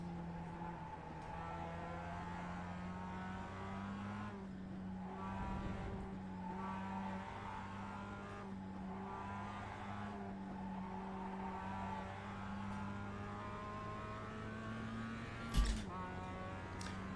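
Skippy race car engine in iRacing holding a steady droning tone, with shifts marked by brief pitch changes and a sharp click near the end. No one is speaking.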